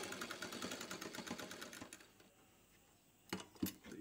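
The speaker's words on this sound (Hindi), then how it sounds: "तो इस तरह से हम लोग सिलाई मार लेंगे" A sewing machine stitches a seam on a pair of pants, running in a rapid rattling burst, pausing into quiet, then giving a couple of short clicks.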